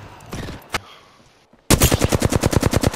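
Automatic gunfire in the Apex Legends video game: a few scattered shots and cracks, a brief pause, then a loud, rapid burst of about a dozen evenly spaced rounds close by, with no talking.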